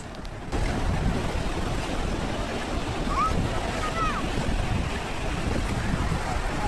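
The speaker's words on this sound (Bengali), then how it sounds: "বড় বড় ঢেউ আসতেছে।" Big ocean waves break on the beach at Cox's Bazar, a broad continuous roar of surf mixed with wind buffeting the microphone, with a couple of faint distant cries.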